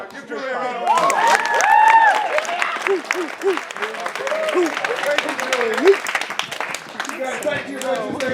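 A high school audience at a Comedy Sportz show bursts into applause and cheering for a performer, loud crowd clapping with shouts that swell, then ease off while a voice talks over it.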